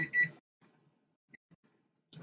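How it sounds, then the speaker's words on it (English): A loud electronic beep sounds at the start to signal the rice is done cooking, followed by faint, scattered kitchen clatter and a brief soft tone before another burst of noise at the end. "So right now we got the rice is done. That's what the beeping was all about."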